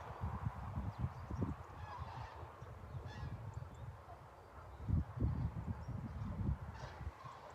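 Birds flying low give repeated honking calls in irregular bursts over a steady low rumble. The calls are moderately distant, and no voices are heard.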